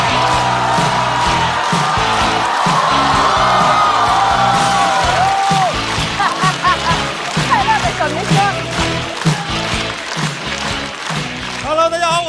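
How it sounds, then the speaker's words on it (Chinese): Loud audience applause with whoops and cheers greets comedian Xu Zhisheng as he walks on at a stand-up comedy show. It swells steadily, thins into scattered clapping and shouts, and continues for about twelve seconds. "掌声欢迎"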